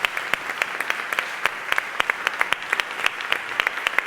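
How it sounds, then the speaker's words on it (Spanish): An audience applauds the speakers of a round-table panel at a business event, with steady, moderately loud clapping from many hands that continues without a break. "Un aplauso para ellos, por favor."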